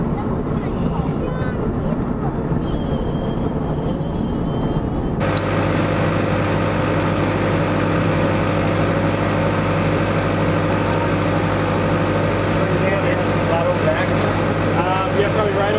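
A vehicle engine drones steadily while driving on the way to collect an old Little Giant trip hammer, with a low sustained hum and road noise; a voice talks early on, then the steady engine tone continues alone.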